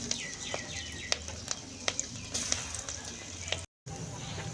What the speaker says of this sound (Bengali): বড়াগুলো উল্টে ভেজে নেব।